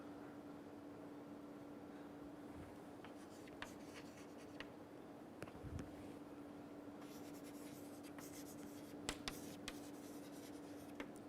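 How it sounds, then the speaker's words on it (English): Chalk or marker writing on a board in a lecture hall, faint scratching and tapping strokes over a steady low hum, growing busier toward the end. "let me write it over here."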